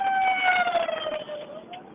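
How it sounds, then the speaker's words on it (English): An ambulance siren on a back road wails with a descending tone as it passes close by, loud at first and then fading slightly as it moves on. "An ambulance is about to pass me."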